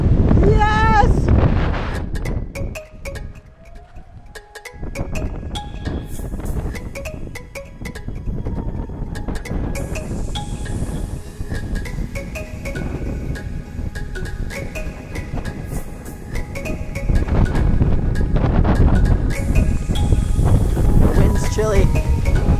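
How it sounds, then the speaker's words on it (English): Strong wind batters the clifftops at the Albany blowholes, a loud, continuous broadband roar and buffeting on the microphone that dips briefly before swelling again, with voices faintly audible underneath. "Wind's chilly."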